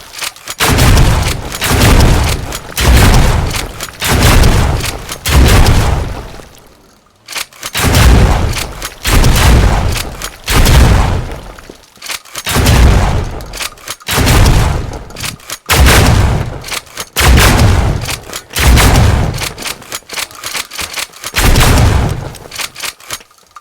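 Rapid bursts of Uzi fire and heavy explosions from the video game Teardown come in repeated loud volleys, each cluster of shots separated by brief pauses, with no talking.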